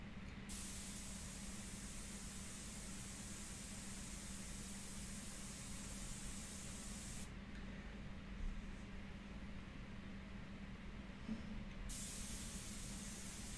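An Iwata airbrush sprays India ink onto paper, giving a steady, even hiss that runs almost unbroken, close and moderately quiet, with a faint low hum beneath.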